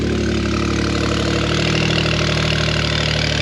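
A Porsche sports car engine idles with a deep, steady burble and throaty rumble, close and loud, with a slight rise in revs midway.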